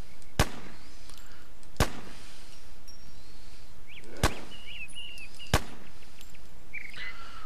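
Gunfire in the PC survival game Infestation Survivor Stories: four sharp, loud single shots at uneven intervals, crisp cracks over a steady ambient background with faint chirping.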